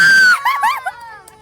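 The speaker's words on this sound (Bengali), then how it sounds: "আমরা সবাই একসাথে টলারওয়ালা ভাইকে হর্ন বাজাতে বলছিলাম, আর উনি কিন্তু একটু হর্নও বাজালো।" A sand-laden trawler on the Kumar river sounds one short, loud, steady horn blast, followed at once by excited high-pitched voices and squeals.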